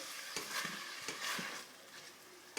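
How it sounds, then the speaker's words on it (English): OXO stock is stirred into browned mince frying for chilli con carne, a soft steady sizzle broken by rhythmic spoon scrapes and clacks against the pan, fairly quiet and close with no talking. "Just stir that in to the meat"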